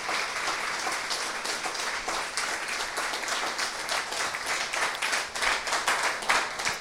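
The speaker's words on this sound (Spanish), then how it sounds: "Denle un gran aplauso al Rey de Reyes, Señor de Señores." Steady, dense applause from a church congregation, many hands clapping together at even loudness for several seconds with no voices on top.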